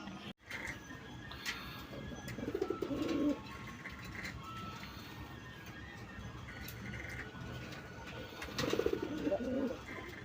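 A male pigeon coos nearby, and female pigeons answer with softer coos from the other side. The calls come in two bursts over faint background noise, and there is no talking.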